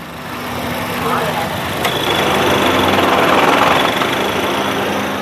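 A Honda Jazz car engine running under heavy load, shifted into reverse while it has a long-standing transmission fault: a steady, fairly loud droning hum with a rough undertone, continuous throughout and rising slightly midway.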